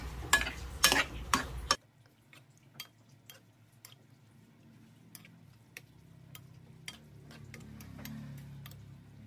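A spoon stirs food in a pan, giving sparse, soft clicks and scrapes at an irregular rhythm over a faint low hum, after a brief louder burst of clattering at the start.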